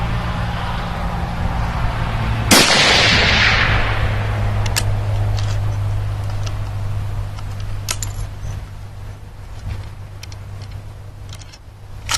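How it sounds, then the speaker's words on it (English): A rifle fires a single round while fire-forming 7.62x39 brass into 6.5 Grendel at a 200-yard target. One sharp, loud crack rings out and decays, over a steady low hum and a few faint ticks. "So we'll shoot some at 200 and see what happens."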